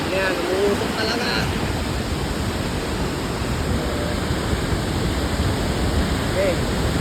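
Heavy water rushing over the old Wawa Dam, a dense, loud, unbroken roar of falling water close by with no pauses.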